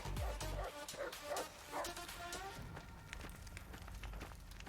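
A dog barks and yips in Fallout New Vegas, a few sharp calls standing out in the first two seconds over game ambience and music.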